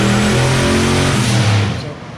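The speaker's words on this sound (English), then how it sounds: "You can tell that when the engine started revving up." Car engine fitted with a dual-stage boost controller revs loudly and steadily up close, its harmonic drone rising in pitch before easing off near the end.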